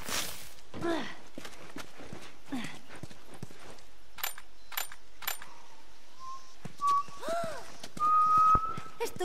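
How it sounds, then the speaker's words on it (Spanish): A character in The Last of Us whistles a few wavering, sliding tones late in the stretch, after quiet footsteps and small rustles in a calm outdoor setting, faint and close. "Silbando."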